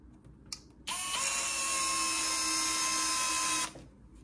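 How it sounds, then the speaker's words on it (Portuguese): An electric screwdriver whirs for about three seconds, driving a screw into the parts of a vanity table, loud and close with a steady high whine, preceded by a brief click. "Então eu vou colocar aqui, parafusar."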